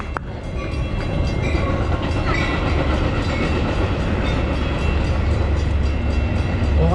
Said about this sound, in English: Good timing to wait for the train.